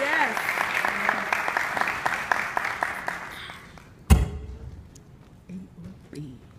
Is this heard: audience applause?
yes